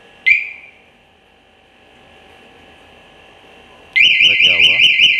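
A Bajaj Pulsar 220 motorcycle's anti-theft alarm, set off by remote, starts with a short chirp, then a steady tone, then breaks into a loud, warbling siren that cycles rapidly up and down.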